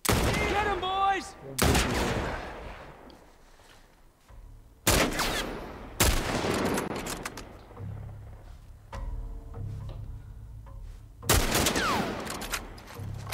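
Video game gunshots ring out in several sharp, loud bursts separated by quieter gaps, with faint talk and game sounds in between.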